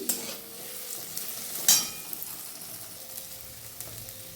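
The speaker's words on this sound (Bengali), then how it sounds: "দিয়ে নাড়ছি, একটু ফ্রাই করে নিই।" Dry ground mustard and poppy seed paste being stirred and fried in a pan, with a soft steady sizzle and a single sharper scrape of the utensil, quiet and close.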